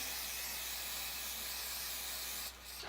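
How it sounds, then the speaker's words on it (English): A steady aerosol spray of wig adhesive hisses continuously for a few seconds, then cuts off briefly before a short final burst, close up and fairly loud. "I'm gonna take some of my adhesive, spray them both down"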